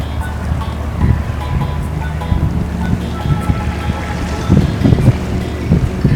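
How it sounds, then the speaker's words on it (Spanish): A motorboat carries passengers on a river tour in Guatemala, where the river meets the sea among mangroves. A steady engine rumble mixes with wind buffeting the microphone and water slapping against the hull throughout. "nos embarcamos en otra lancha para hacer el tour del río"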